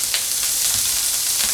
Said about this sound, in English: So we cut the bacon up. We're going to fry it.